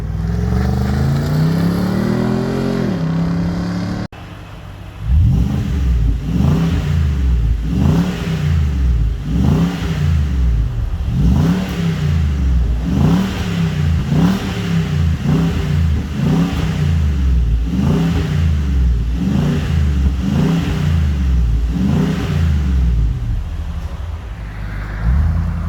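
A Y62 Nissan Patrol revs through a newly fitted exhaust. It starts with a rising engine note, then a short pause, then a long series of loud, close, rhythmic revs, each about a second apart, with no talk.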